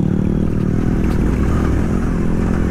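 Suzuki V-Strom 800DE adventure motorcycle engine pulling hard under acceleration on a slippery off-road surface, a loud, steady close-up drone with dense mechanical clatter throughout.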